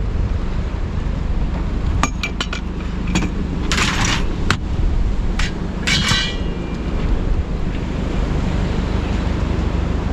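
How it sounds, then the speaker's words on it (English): Strong wind buffets the microphone outdoors, a continuous roaring rush with low rumble, broken by a few sharp clicks and brief bursts of higher hiss midway. "Look at this crazy wind."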